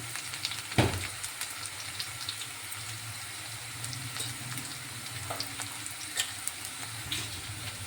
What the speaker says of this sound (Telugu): ఇలా ఫ్రై అవ్వాలి ఇలా ఫ్రై అయ్యాయి